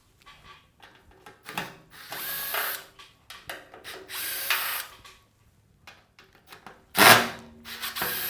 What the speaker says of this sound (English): take out the screws that hold in this unit